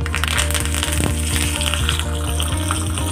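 Curry leaves sizzle and crackle in hot oil for a tadka with mustard seeds, dried red chillies and asafoetida, a loud, steady frying hiss with small pops running throughout.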